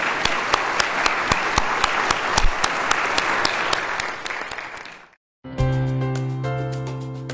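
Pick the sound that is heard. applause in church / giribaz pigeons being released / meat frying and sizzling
applause in church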